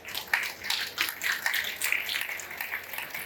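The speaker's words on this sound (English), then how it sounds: "Give them a round of applause" Audience at a COP30 panel on emerging technologies for planetary health applauding the panelists, a steady wash of many hands clapping throughout, moderately loud and continuous with no voices on top.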